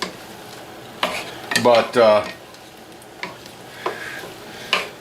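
Potatoes frying in a pan for beef stroganoff get stirred, a couple of scraping clatters of the utensil against the pan over a soft sizzle, with a few further light knocks and a brief spoken word.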